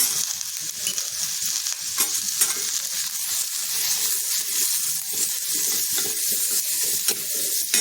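Spices roast in a pan while being stirred, a loud dense continuous sizzle with frequent stirring scrapes throughout and no speech.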